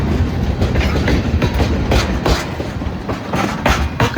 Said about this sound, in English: There's the train, guys,